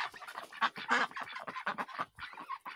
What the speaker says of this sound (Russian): Утки. Это все утки, которые на племя остались.